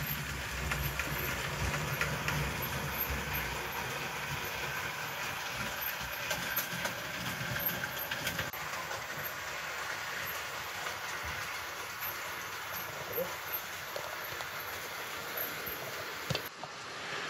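A Piko BR 38 model locomotive runs along its track with a continuous, fairly quiet whirring rumble and faint rail clicks, steady for most of the clip before it cuts off near the end.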